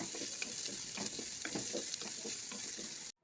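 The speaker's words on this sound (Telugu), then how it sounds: "ఆయిల్లో ఉల్లిగడ్డ వేసి వేపుకోవాలి." Three onions frying in a little oil for an egg curry, a steady close sizzle with soft periodic stirring scrapes, ending abruptly.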